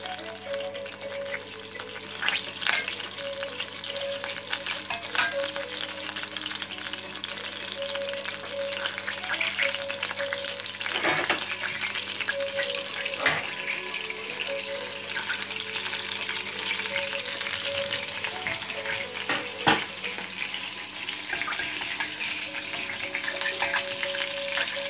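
Cumin seeds (jeera) fry in a pan for Rajasthani dal bati, giving a steady, close crackling sizzle throughout with occasional stirring scrapes and clicks.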